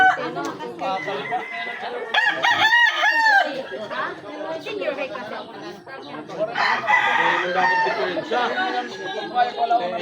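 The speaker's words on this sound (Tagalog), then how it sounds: "Daming mga manok po dito, mga pansabong mga guys" Several fighting roosters crow loudly and cluck nearby in a yard in Tacloban City, Philippines, with overlapping calls and people chattering in the background throughout.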